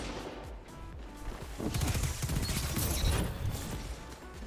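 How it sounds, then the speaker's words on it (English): Arbalest linear fusion rifle shots in Destiny 2, a few sharp, crackling discharges with bright bursts in the second half, fairly quiet against game ambience. "we've got three shots with the linear fusion scavenger"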